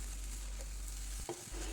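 Nasi goreng with fish sauce and sesame oil being stir-fried in a pan, a faint steady sizzle with brief scraping stirs of the spatula.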